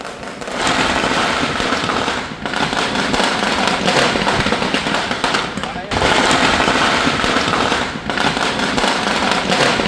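Firecrackers burst in dense, continuous crackling volleys as crowds greet a politician along a roadside route, the loud popping running almost unbroken for the whole stretch with a brief dip midway.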